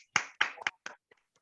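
Participants in a public speaking course give themselves a brief round of applause: a handful of sharp, close hand claps in quick, uneven succession that fade to a few soft taps.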